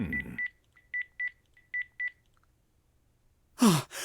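In the video game BROK the InvestiGator, a phone is dialed to return calls: about eight short electronic keypad tones beep in an uneven rhythm, and a brief breathy vocal sound follows at the end.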